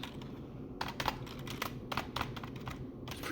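Keys clatter in quick, uneven bursts on a Guiheng wired 60% gaming keyboard, close up and fairly quiet with no talking.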